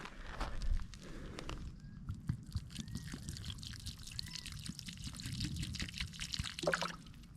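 Water pours from a bottle and splashes onto the ground nearby, a faint trickling stream with scattered drips and shuffling footsteps, fairly quiet overall.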